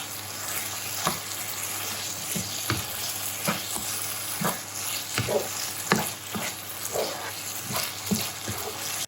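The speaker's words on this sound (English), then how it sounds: "Give it a nice stir, mix everything up." Sichuan lamb stir-fried with chili paste and rice wine in a wok, a steady close sizzle broken by repeated scraping stir strokes at an uneven rhythm, with no talking.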